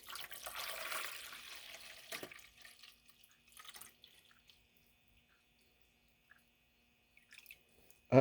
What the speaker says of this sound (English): So I'm going to pour one of these full.